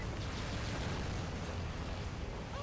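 Continuous dense explosive rumble from gunfire and blasts in the Mission Street stage of Sonic Adventure 2 Battle, loud and steady throughout without distinct individual shots.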